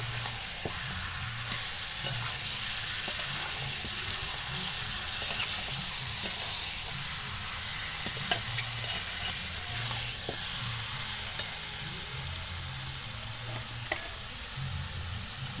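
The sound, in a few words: stir-frying meat with spices in a pan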